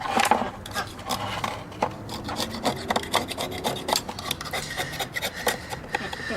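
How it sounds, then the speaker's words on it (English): Old gasket being scraped off a Weber 34 ICT carburetor from a 1972 VW Beetle, a close, steady run of raspy rubbing and scratching strokes with no talking. "Let's get that gasket off of there."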